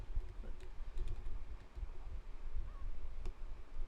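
Soft, quick keyboard clicks patter irregularly at a low level, close by, with a faint hum behind them.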